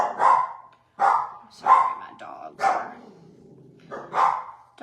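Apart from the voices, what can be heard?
dogs barking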